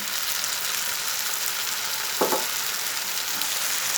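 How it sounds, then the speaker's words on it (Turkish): Tomato sauce poured into zucchini and minced meat frying in a pan, a steady soft sizzle with a brief louder splash partway through, no voices. "Domates sosumu döküyorum."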